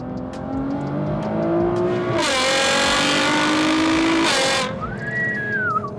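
A new Nissan GT-R with chassis and drivetrain set to race mode accelerates hard, its engine rising in pitch through the gears into a loud, broadband roar, then easing off to a quieter whine, heard close from the cabin without talk.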